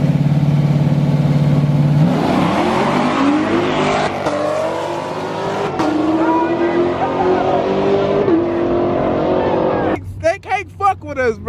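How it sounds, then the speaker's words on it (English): A new 10-speed Camaro 2SS and an old school Mustang race, engines revving loudly and climbing through gear shifts with rising, falling pitch, up close, before the roar fades and voices shout over it. "The new school Camaro and the old school Mustang 10-speed new 2SS Camaro."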